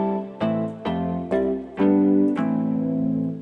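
A second Mikro Prism synth instance, set to an adjusted lithic piano preset, plays a sequence of plucky, piano-like notes and chords. About six attacks sustain richly at a steady, loud level.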